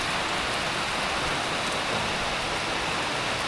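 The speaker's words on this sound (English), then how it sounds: "As luck would have it, it started raining" Dense, steady rain hissing evenly on surfaces nearby, a continuous wash of noise with no breaks and no voices.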